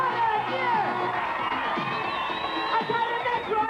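A crowd at a 1984 BMX competition cheers and whoops, with children shouting, in a loud sustained roar lasting several seconds, with a voice speaking over it.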